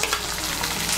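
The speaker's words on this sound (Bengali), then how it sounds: "টমেটো কুচিটাকে মিশিয়ে নেব তেলের সঙ্গে" Chopped tomato fries in hot oil, a dense continuous sizzle with a scraping stir running through this brief moment, close and fairly loud.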